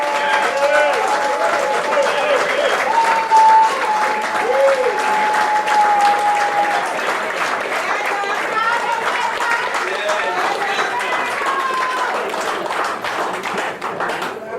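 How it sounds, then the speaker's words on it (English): A standing audience gives a loud, rousing round of applause for Premier Smith, dense continuous clapping with a few thumps and some crowd noise mixed in, holding strong before easing slightly toward the end. "I want to ask you please to stand and give a rousing round of applause to Premier Smith for the work that he has done"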